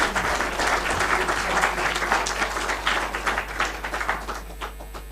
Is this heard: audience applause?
yes